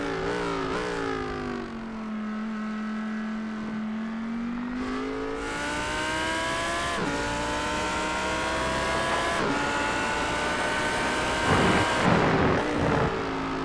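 An Audi GT3 race car at the Red Bull Ring revs loudly and climbs through the gears, its pitch rising and dropping with each shift before a harsher burst of acceleration near the end.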